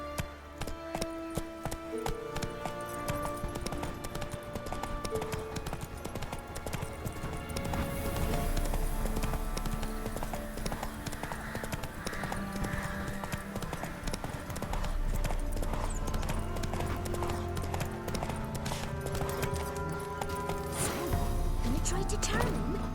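In The Witcher 3 video game, a horse gallops with a fast, steady clip-clop of hooves that runs throughout over game music, with occasional voices.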